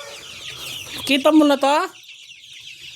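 A chicken clucks close by in a short burst of nasal, rising calls lasting under a second, with a person speaking softly around it.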